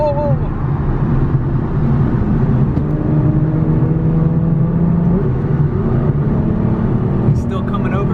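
A Ford Mustang rolls past at an exotic car show, its engine a steady, loud low rumble throughout, with the crowd's voices mixed in underneath.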